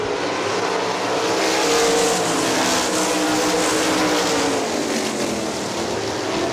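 Sprint cars race on the dirt oval at Hartford Speedway Park, their engines forming a loud, continuous roar that swells and fades slightly as the pack passes, with no voices.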